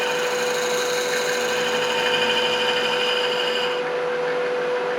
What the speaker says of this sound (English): You can hear the higher pitch when I hit the veneer.